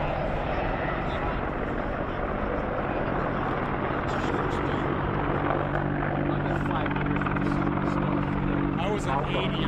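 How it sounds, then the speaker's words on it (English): An Apache attack helicopter at a Rhode Island air show, its loud steady rotor thrum and engine whine filling the air, with crowd noise and a voice talking over it. "Big Apache helicopter, the guns on the front, the rockets on the side."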